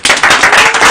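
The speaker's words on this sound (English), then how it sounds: "Y'all clap it up." A studio audience claps in a brief, loud, close burst of many hands, dense and continuous for under a second.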